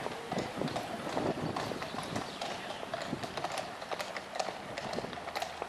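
Horse hooves clip-clop in a quick, uneven patter on a hard surface at the Paleis Het Loo stable complex in Apeldoorn, fairly close, with a busy background of movement and faint voices.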